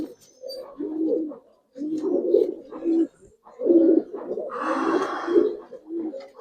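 A Giribaz jumper pigeon with feathered feet is released and coos repeatedly in low close bursts, with a rush of wingbeats near the end.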